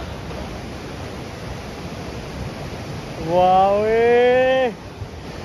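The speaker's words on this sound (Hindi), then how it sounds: "पहाड़ों पे से ऊपर से पानी आ रहा है और यहाँ पे आके मिल रहा है" Mountain water near Manali rushing beneath a bridge, a constant broad roar, with a man's brief exclamation rising over it near the end.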